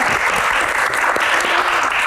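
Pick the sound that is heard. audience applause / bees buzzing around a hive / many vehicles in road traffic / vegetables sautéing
audience applause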